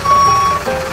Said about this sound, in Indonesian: Sekarang kita mau atrek dulu.